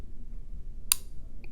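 Trigger reset of an STI Staccato P pistol: one crisp, small metallic click in a quiet room, followed by a fainter tick a moment later.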